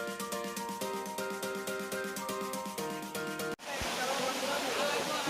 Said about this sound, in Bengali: আমরা এখন ঝর্ণার খুব কাছে, আর ঝর্ণার আওয়াজের জন্য আমার ভয়েস বেশি একটা শোনা যাচ্ছে না